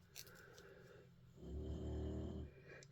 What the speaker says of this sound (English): I'm so sorry about her snoring.